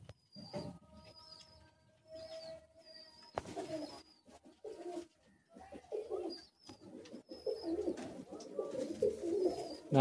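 Madrasi pigeons in a loft give soft, repeated cooing calls up close, among rustling and shuffling sounds. A brief voice is heard partway through.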